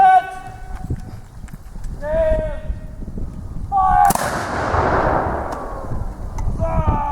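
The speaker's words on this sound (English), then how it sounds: "Okay, he's up for a firing squad. Now, how accurate are these musketeers?" At an English Civil War re-enactment, a firing squad's musket volley bursts out as one sharp, loud crack partway through, with horses whinnying repeatedly and an outdoor murmur in the background.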